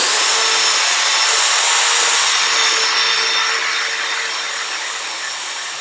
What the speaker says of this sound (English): So I can just line it up at the pilot hole and drill it through.